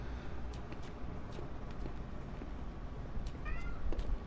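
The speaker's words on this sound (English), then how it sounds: "I don't know if you can hear my cat, but she's saying hi as well." A pet cat meows faintly a few times near the end, over a low background of video game noise from Dead Rising on PS4, with no talk.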